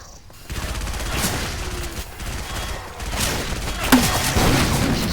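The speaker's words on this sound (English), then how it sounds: "Grenade launcher!" A grenade launcher fires in Left 4 Dead 2, loud thumping shots and booming impacts amid a chaotic firefight, with a voice briefly heard.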